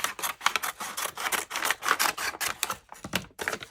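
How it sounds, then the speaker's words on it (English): Scissors snipping through a paper parcel made from junk mail, a quick run of crisp cuts close to the mic with short pauses between strokes, no talking. "I'm just going to cut it down further to reduce the bulk."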